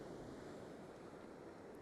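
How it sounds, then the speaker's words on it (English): Small rolling ocean waves break at Myrtle Beach in the morning, a steady broadband wash of surf with some wind rumble and no voices. "check these little nice rolling waves out"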